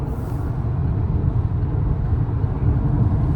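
Wind noise inside an Aletra L8 EV electric car cruising at 96 km/h, a steady broadband low rush that fills the cabin without pause, with no one speaking.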